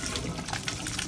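Water runs steadily from a kitchen sink faucet while a bladder-type pressure tank is set up, a dense, continuous rushing hiss with no talk over it.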